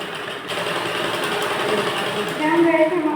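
A sewing machine runs steadily while stitching the seam of a princess cut blouse, a fairly close, even mechanical whir with a light ticking pulse, with someone talking over it.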